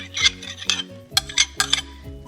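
A spoon stirring slurry into a crock pot, a few close, soft scraping and clinking strokes in uneven bursts, with a faint steady hum beneath and no talking.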